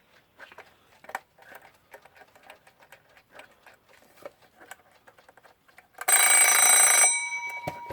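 A Westclox Spur alarm clock, a Scottish-made Style 3, ticks softly and unevenly for several seconds, then its bell bursts into a loud, dense ringing that carries on for about a second before fading away.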